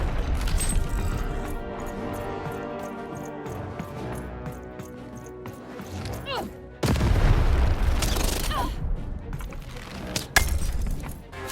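In the video game Lost in Random, a cannon fires with a sudden heavy boom partway through. Rumbling and clattering follow, over other game sounds.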